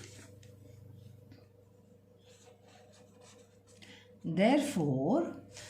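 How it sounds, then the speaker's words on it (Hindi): Pen or chalk scratches and rubs while a maths solution is written out, in soft intermittent strokes, and then a voice speaks over it near the end. "तो हम क्या करेंगे, हम लिखेंगे यहाँ पर"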